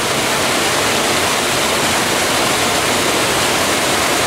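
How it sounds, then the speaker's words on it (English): Water rushes out of a partly blocked micro hydro intake box as it drains and flushes, a loud, close, unbroken roar of turbulent flow, constant from start to finish. "now it's actually draining and flushing it all out"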